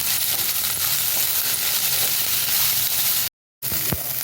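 Ginger-garlic, small sambar onions and curry leaves frying in hot oil for a mutton head curry, a steady close crackling sizzle throughout, broken by a brief gap of silence near the end before the sizzle resumes with a faint clink.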